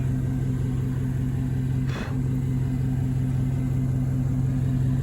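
A Chevrolet Tahoe truck engine idles with a steady, low drone throughout, with a brief faint hiss or click near the middle and no voices.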